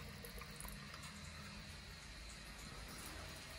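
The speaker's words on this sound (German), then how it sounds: "hier kommt nur noch ganz wenig Wasser raus" Weak trickle of water from a tap with low pressure, a faint steady hissing flow with no speech.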